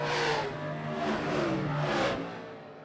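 A race car engine revs in rising and falling surges, loud and close, with no talk over it.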